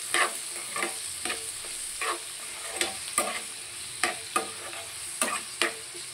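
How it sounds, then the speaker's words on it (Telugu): Tomatoes stewing in a pan for tomato chutney with tamarind, a soft steady sizzle broken by a series of sharp scraping stirs at irregular intervals, close and alone without talk. "టమాటా చట్నీకి టమాటా మగ్గుతున్నాయి చూడండి"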